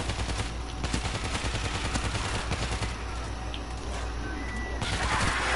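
Gunfire in the video game World War Z, rapid dense bursts of shots crackling continuously over a busy mix of game noise, loud and sustained for the whole stretch.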